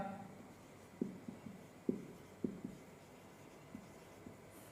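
Chalk or marker writing trigonometry on a classroom board, a handful of short tapping strokes and scratches spaced about half a second apart, faint and close in a quiet room.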